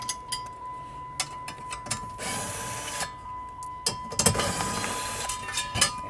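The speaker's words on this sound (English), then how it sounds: "You have 4 screws on this panel, this metal panel, that you have to undo, and it's a number 10 socket." Ratchet wrench with a 10 mm socket undoing screws on a metal dash panel of a 2007 Chrysler 300, a close series of quick clicking ratchet bursts with short pauses between, alone without talk.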